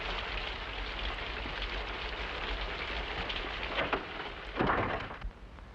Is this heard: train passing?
no